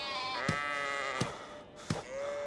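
Sheep in the farming game Medieval Dynasty bleat three times in quick succession, each call loud and wavering, over a low ambient background with no one talking.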